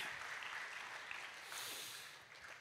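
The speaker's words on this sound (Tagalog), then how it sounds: "pumalakpak ng malakas para sa Panginoon" Congregation clapping together at a church service, a broad, continuous wash of many hands at moderate loudness that holds steady and tapers slightly toward the end, with no speech over it.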